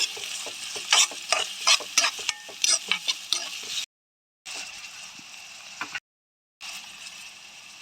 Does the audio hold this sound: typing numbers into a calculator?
no